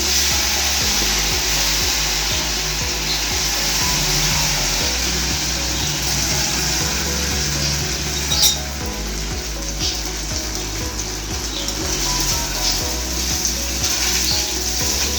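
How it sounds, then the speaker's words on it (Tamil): Idli pieces deep frying in oil make a loud, continuous bubbling sizzle that holds steady throughout, with an occasional brief spatter and no talking. "முதல்ல இட்லியை எண்ணெய் ஊற்றி பொரிச்சு எடுத்துக்கணும்."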